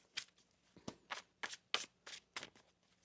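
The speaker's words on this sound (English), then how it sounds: "One more shuffle here." A deck of tarot cards shuffled by hand gives about eight crisp riffling bursts at an uneven pace, close and fairly quiet, with no talk.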